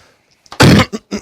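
One sharp, loud cough bursts out close to the microphone, followed by two shorter throat-clearing grunts, all within about a second.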